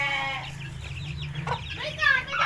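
Aseel chickens and chicks on a farm cluck and call up close, with short bursts of clucking and a voice speaking over them.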